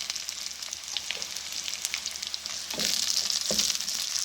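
Chopped green and red chilies fry in oil with onion and ginger for Lucknow-style mash daal. A steady, close sizzle swells louder near the end, with a few stirring scrapes.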